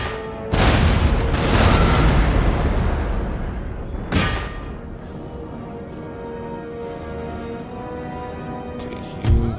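Artillery fire in the strategy game Total War: Empire: heavy booming cannon blasts, a big sustained roar at the start, another sharp boom near the middle and one more at the end, with rumbling battlefield ambience between.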